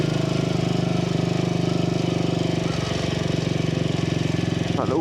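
A Royal Enfield motorcycle engine running steadily after a carburettor rebuild, a continuous even thumping throb held at a constant level throughout, fairly close, with no speech.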